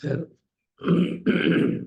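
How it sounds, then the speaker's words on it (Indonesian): A few rough, throaty coughs close by, two heavy bursts after a short pause, sounding like someone clearing a scratchy throat. "Lagi batuk, Ustaz?"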